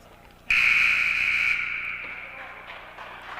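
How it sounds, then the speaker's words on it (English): A loud, steady electronic buzzer sounds for about a second at a women's college basketball game, then its tone lingers and fades under background arena noise. "And that's the buzzer."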